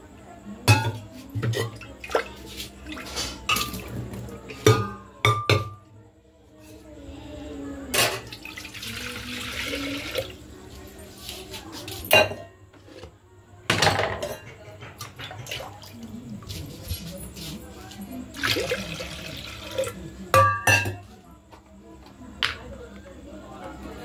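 Goat meat being rinsed in a pot at a home kitchen, with running tap water, splashing and clinking of pot and meat in bursts, with speech over parts of it.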